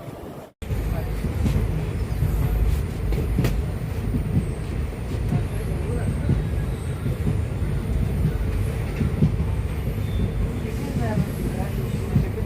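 Continuous low rumble of a train at Melmaruvathur railway station, steady and fairly loud throughout after a brief quiet start, with station bustle and voices mixed in.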